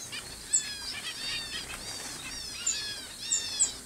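Society finches and other small birds in an aviary give repeated high, thin chirps and short twittering calls, fairly faint and overlapping, with no one talking.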